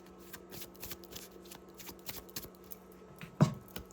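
An oracle advice card deck being shuffled by hand, a rapid run of soft papery flicks and riffles ending in a sharper slap as the cards are squared, close and quiet, with no talk.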